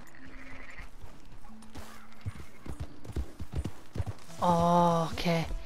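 A sheep in Red Dead Redemption 2 gives a clear, loud bleat near the end, preceded by hoof-like clopping and rustling movement; a person talks quietly in the background.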